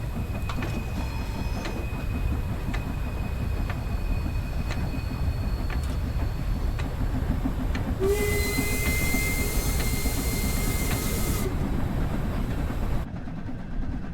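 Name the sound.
steam train running in video game Train Sim World 3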